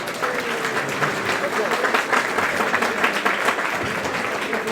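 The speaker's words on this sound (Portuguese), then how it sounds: "Salva de palmas novamente." A lecture audience at a Lutheran church history symposium gives a sustained round of applause, thick continuous clapping with a faint murmur of voices underneath.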